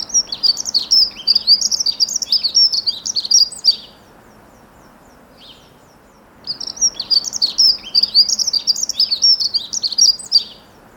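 Dunnock song, two loud, hurried warbling phrases of about four seconds each, separated by a quiet gap with one faint note, close and clear over light background noise.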